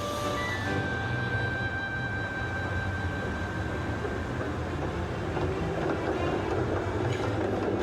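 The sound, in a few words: electric streetcar running on tracks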